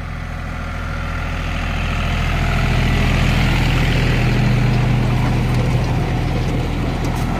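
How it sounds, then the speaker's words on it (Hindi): A tractor engine runs steadily in a potato field during harvest, a loud, constant low drone that swells slightly as it comes closer, with no talk. "ये ट्रैक्टर आ गया इधर से हमारा।"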